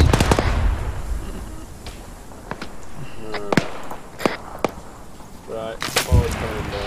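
Heavy weapon fire from an enemy technical in Arma 3, a series of sharp distant cracks and thuds spaced irregularly over several seconds, with people talking over them.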